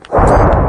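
A frag grenade explodes in the video game Natural Born Soldier, a single loud, close blast that swells quickly into a sustained deep roar.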